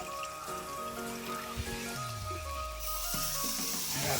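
Chicken curry frying in a pan as water is poured in, giving a steady sizzle and bubbling hiss with a rising, gurgling swell near the end, close and moderately loud, with no talk.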